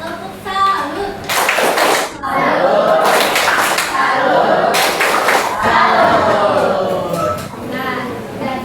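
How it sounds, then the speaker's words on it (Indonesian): Students in a junior high school classroom in Banjarmasin perform the 'tepuk salut' rhythmic clapping routine, with bursts of group clapping interleaved with children's chanting voices, loud and close. "Kita beri tepuk salut untuk kelompok 6 karena sudah mempresentasikan hasil jawabannya."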